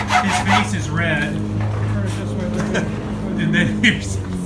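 A croze tool scraping a groove inside a wooden bucket at a cooperage class, giving rasping, rubbing strokes up close, with people talking over it.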